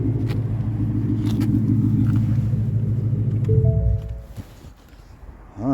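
A 2018 Ford Mustang GT with a 5-liter V8 and six-speed manual idles with a deep, steady rumble close by, then the engine cuts off and the sound drops away to near quiet.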